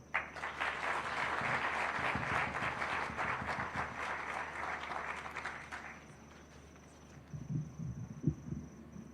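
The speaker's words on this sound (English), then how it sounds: "Let's appreciate our director with more heartier clap" An indoor audience claps at a Google Kenya 15th anniversary event, a dense burst of applause from many hands that holds steady, then thins and fades over several seconds as a few scattered sounds follow.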